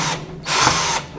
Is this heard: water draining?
no